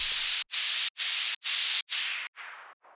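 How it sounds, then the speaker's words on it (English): Bursts of clean white noise pulse in a steady rhythm, each one growing duller and quieter as the sound sweeps downward. "This is a very clean white noise, just a clean white noise sweep."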